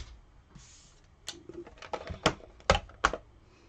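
A small manual cut-and-emboss machine with plates fed through it for cardmaking makes close clicking and knocking, quiet at first, then a run of louder irregular clacks and thumps, with no talking.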